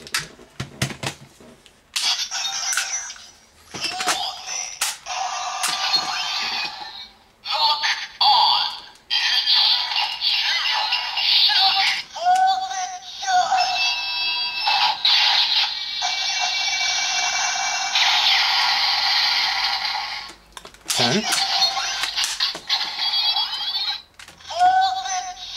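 Electronic sound effects from a Kamen Rider Gaim DX Musa Saber toy sword with an OOO or Fourze Lockseed inserted: loud, bright synthesized chimes, beeps and jingles in bursts with brief pauses, ending in a short final flourish.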